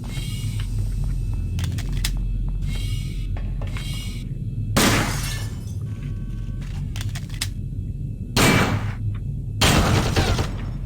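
A live turret firing in System Shock 2, heard as a few short loud bursts of gunfire standing out against a constant low mechanical hum and scattered clicks.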